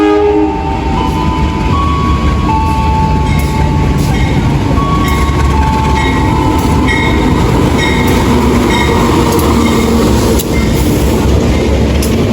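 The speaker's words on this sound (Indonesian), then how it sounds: "Nah ini kereta api Majapahit, penampakan kereta api Majapahit." The Majapahit passenger train rumbles loudly and steadily through Tulungagung station at night, with squealing metallic wheel tones and brief horn-like pitches over a constant roar.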